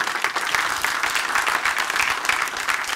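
A studio audience at a television show breaks into applause, a dense even patter of many hands clapping throughout.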